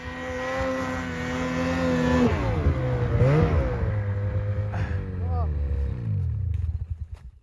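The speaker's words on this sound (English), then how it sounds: "Definitely heard my belt slip." A snowmobile engine revs hard and loud during a wheelie in deep powder snow; its pitch swings up and down, then drops and fades near the end, with a slipping drive belt.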